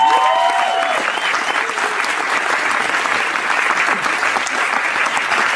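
An audience applauds steadily in a Paris café during a live show, a dense, even patter of many hands that stays loud throughout. A brief tonal trace sounds at the start.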